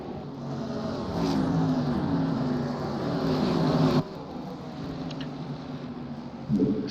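Modified race cars racing side by side at Stafford Motor Speedway, a continuous engine roar from several cars at mid distance, swelling as they pass, with no talking heard.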